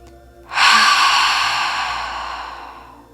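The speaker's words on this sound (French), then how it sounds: "venir inspirer par le nez et expirer bouche ouverte" One deep breath is drawn and then released in a long, audible exhale through an open mouth, close and alone, fading gradually over a couple of seconds.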